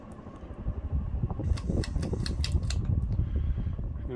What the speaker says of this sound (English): This fan might have went a little faster when it was new.